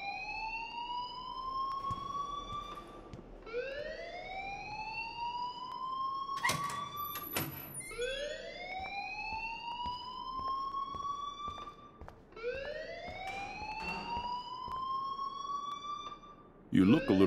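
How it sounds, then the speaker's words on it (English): A fire alarm in the video game Life is Strange wails on and on, each tone rising and then holding before the next sweep, steady and piercing, with a few sharp clicks and a burst of noise near the end. "please turn off that alarm"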